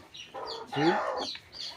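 A hen clucks near her eggs, close by and in short bursts, with one longer, louder cluck in the middle.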